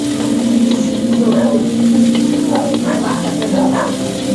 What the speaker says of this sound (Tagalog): Ginisa ko nga pala yan sa luya at saka kamatis, bawang at sibuyas